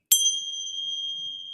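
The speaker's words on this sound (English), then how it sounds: "the sound of the bell" A bell struck once, ringing out with a bright, clear tone that sustains steadily and evenly in a quiet room during a yoga practice, with no voices over it.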